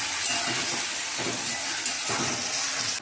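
Tomatoes frying in a pan with garlic for a home-style potato curry, giving a steady bright hissing sizzle that stays close and even throughout, with no talking.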